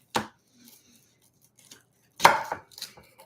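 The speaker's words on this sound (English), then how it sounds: "And now we'll cut the onion in half." A knife cuts an onion in half on a cutting board, with two sharp chopping strikes about two seconds apart and faint scraping and small knocks between them.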